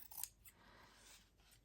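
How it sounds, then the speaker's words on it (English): Scissors trimming frayed fabric from an antique book cover, one quick close snip followed by faint rustling of the material, with no talking. "I am going to trim this off because it will re-fray again."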